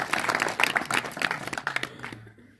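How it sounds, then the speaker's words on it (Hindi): Audience clapping for daughters at a village community honour ceremony in Bulandshahr, a lively burst of mixed hand claps that thins out and fades after about two seconds. "इसके लिए जोरदार तालियां बेटियों।"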